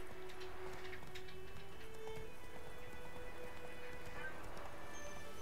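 Roach the horse trots along in The Witcher 3, hooves clip-clopping steadily beneath continuous game ambience and faint music, with a voice speaking quietly over it.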